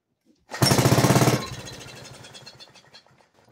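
A 1937 Briggs and Stratton model WM small engine fires up with a loud burst of rapid, even put-put strokes, then quickly loses power and sputters down to a fainter, uneven chug.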